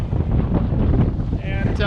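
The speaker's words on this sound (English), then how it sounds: "So these very strong easterlies have showed up" Strong easterly wind buffets the microphone aboard a sailing boat, a steady close roar with no talk over it.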